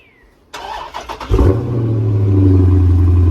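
Cold start of a Dodge Charger: a starter crank, then the engine catches with a sharp rev and settles into a loud, steady high idle, close by with no talking.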